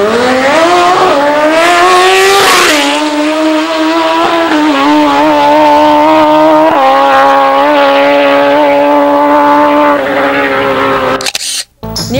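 A Stoll Racing drag racing motorcycle screams loud and close at full speed down a quarter-mile strip, its engine note rising through gear changes before cutting off sharply near the end.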